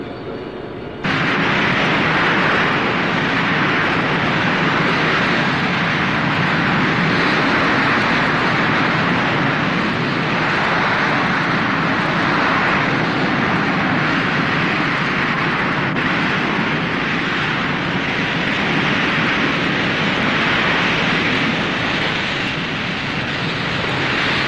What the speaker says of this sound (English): The aircraft's small size and nose-wheel steering make it very maneuverable while taxiing.